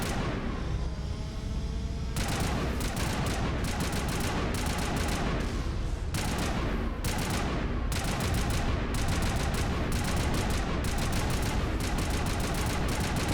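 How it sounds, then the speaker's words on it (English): Dense, sustained automatic gunfire in the game Mass Effect Legendary Edition, loud and close with rapid bursts and a brief lull near the start before heavy firing continues. "Let's just keep on firing."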